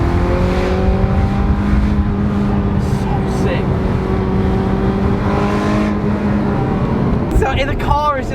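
Ferrari 355 Spider engine held at high revs around 6,000 rpm, a loud steady sustained tone with rising harmonics, heard from near with a brief shift near the end.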